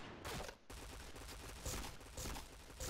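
Rapid bursts of gunfire in the video game Point Blank crackle in quick succession, fairly faint overall, with repeated volleys and no talking.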